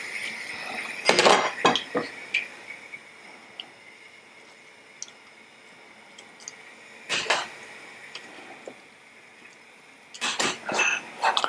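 Pastry brush strokes and clinks against ceramic ramekins being greased for chocolate lava cake come in short, close, sharp bursts separated by quiet stretches, with occasional light taps.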